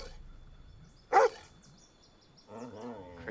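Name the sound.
dog barking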